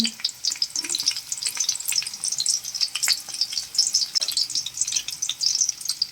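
Chopped garlic sizzles and crackles steadily in a hot pan for a sardine and sweet potato leaf sauté, with a spatula stirring and scraping through it. The frying is close and continuous, with no talking.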